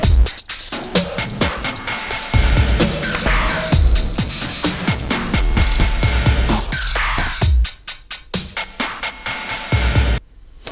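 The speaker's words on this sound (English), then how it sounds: "I've got some processed trap loops" Punchy, heavily processed trap drum loops play alone, dense hits and crunchy layered percussion in a steady rhythm, loud and close with a gritty texture.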